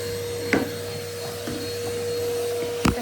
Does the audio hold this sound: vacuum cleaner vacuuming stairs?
yes